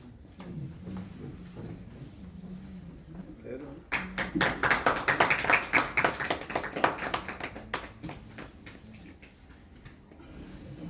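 An audience at an honour ceremony for children breaks into a burst of clapping that swells for several seconds and fades, while an announcer's voice speaks before and around it.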